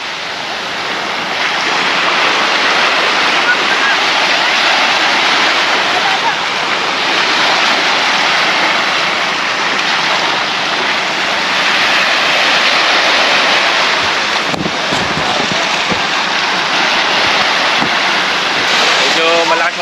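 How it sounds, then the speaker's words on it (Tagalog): A continuous roar of surf and wind at a beach in San Felipe, Zambales fills the whole stretch, loud and unbroken, with rushing water close by. "Medyo malakas yung alon siguro dahil hapon na"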